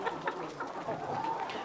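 Hens cluck in a laying coop fitted with small nesting boxes, several short, close clucks following one another in an uneven rhythm, with no voices.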